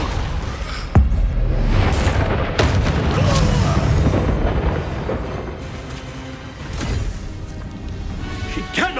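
In Hogwarts Legacy, a Depulso spell blast booms amid heavy combat, with several loud impacts and crashes over a rumbling, continuous low-end din.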